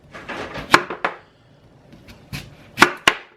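A knife chops through raw sweet potatoes on a board in a few sharp, close thuds, two quick cuts, then a pause, then another pair.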